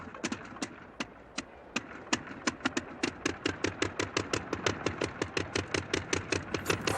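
An early airplane engine, flown in the era of a 48.5 mph airspeed record, sputters at idle and then settles into steady, evenly spaced firing beats that quicken slightly, loud and close with no voices.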